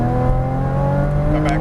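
Porsche Cayman engine under hard acceleration on a track, a loud, close, continuous drone with a steadily rising pitch.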